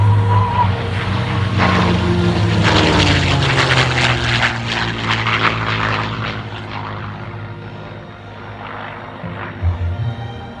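A P-51 Mustang propeller fighter roars past at full throttle during a Peachtree City airshow demonstration, its loud engine drone rising and sweeping by, then fading into the distance with no talk.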